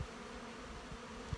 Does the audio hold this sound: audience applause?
no